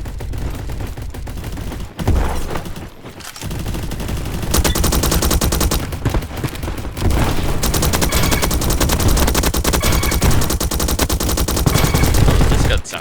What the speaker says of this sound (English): Oh, this gun sounds really cool